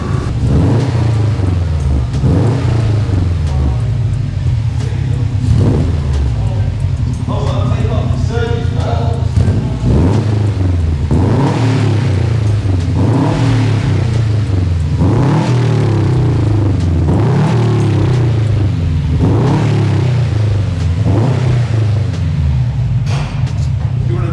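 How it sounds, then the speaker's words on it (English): A Subaru Impreza WRX STI with a performance exhaust idles with a deep, lumpy burble and is revved repeatedly, each blip swelling loud and close before settling back to a rumbling idle. "Hope you like the sound of the car."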